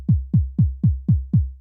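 A midiSTEPs step sequencer on an iPad triggers a synthetic bass drum at eighth-note speed, six quick punchy low thumps roughly a quarter second apart, steady and alone without talk.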